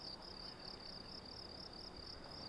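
Grasshoppers chirp outside a quiet Toyota Prius 1.8, a faint, steady high-pitched trill with a gentle pulsing rhythm that carries on without pause over soft background hush.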